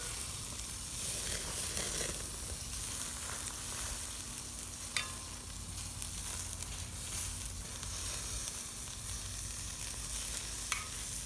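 Oysters topped with butter sizzle on a Weber Smokey Joe charcoal grill, a steady close frying hiss running throughout with a few faint sharp pops and crackles, no voices.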